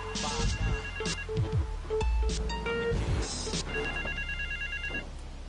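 Phone ringing in the video game GTA 3, repeated electronic ring bursts over game music and ambient noise, fairly close and clear for several seconds.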